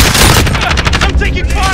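Rapid bursts of automatic gunfire fill a multiplayer shooter firefight, loud and dense throughout with overlapping shots, and a voice is faintly present beneath.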